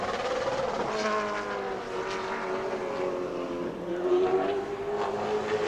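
A super late model race car on a qualifying lap at New Smyrna, its engine a loud, continuous drone that rises and falls in pitch through the lap, with no talking.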